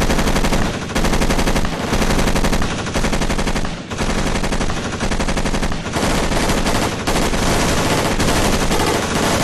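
Sustained machine gun fire in a squad firefight, rapid loud bursts hammering almost without pause, with only brief gaps between long strings of shots.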